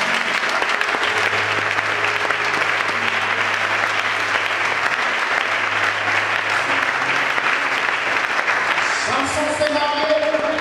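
A church congregation claps steadily and densely throughout, a sustained wash of applause with a voice faintly audible beneath it and a brief brighter tone near the end.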